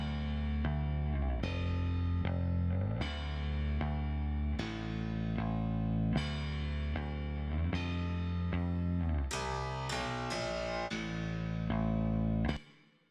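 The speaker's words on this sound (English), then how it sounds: "we also have a rematrix reverb, which isn't doing too much. It is a fairly big hall reverb." Instrument track with a Rematrix big hall reverb, a sequence of struck, sustained chords or notes with clear attacks every second or so, each ringing into a soft reverberant tail, ending with a quick fade, no voices.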